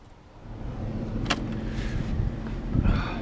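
A Toyota MR2 Turbo fitted with methanol injection cold-starts with a brief crank, then settles into a steady, rumbling idle close by.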